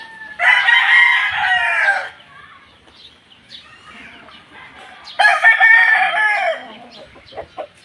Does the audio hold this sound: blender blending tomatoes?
no